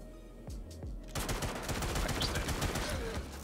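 Automatic gunfire in the space game Star Citizen during a base mission: a couple of separate shots, then a dense, sustained burst of rapid rounds, loud and close.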